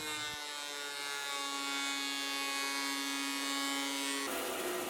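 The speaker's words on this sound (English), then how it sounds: "Then I plane it flat." A steady, loud whine of a power planer flattening a resawn walnut slice, holding one bright even tone for about four seconds before shifting to a rougher burst at the end, with no voices.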